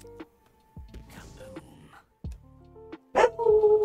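Zombie dogs in Call of Duty Zombies bark and yelp in short, sharp bursts, a few growling snaps separated by gaps and then a louder whining cry at the end, close and aggressive.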